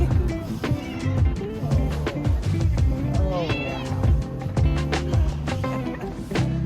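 A cat meows repeatedly on a street in Istanbul's Balat neighborhood, its drawn-out, wavering cries close and clear over a low rumble of street background.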